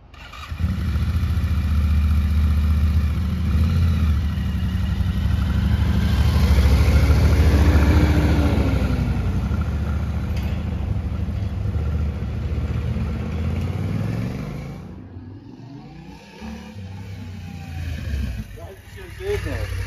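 Yamaha Tenere 700 motorcycle engine running during a test ride after a suspension setup, a steady, close, throbbing engine drone that rises and then falls away, with voices speaking over it.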